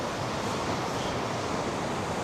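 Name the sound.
water of river in Almaty gorge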